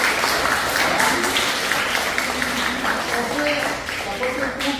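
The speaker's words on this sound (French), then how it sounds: "on peut l'applaudir très fort" Crowd applauds loudly at a veterans' gathering in Montégut, mixed with cheering and voices talking over the clapping throughout.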